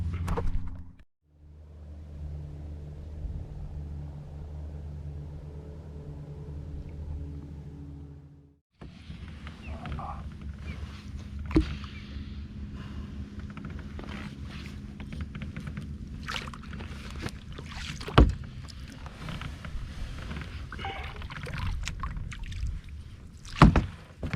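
Kayak paddling on open water at Canaveral National Seashore, a steady low wash and rhythmic paddle strokes with splashes and drips close by, plus a brief quieter lull partway through.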